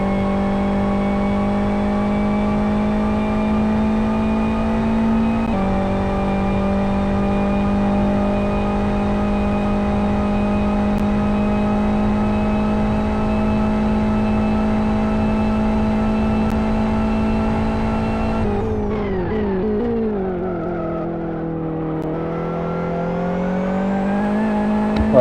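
Race car engines at a 2012 24-hour endurance qualifying session at Aston GP, a loud steady in-car drone of one engine holding revs with a sustained harmonic whine, dipping briefly near the end before climbing again.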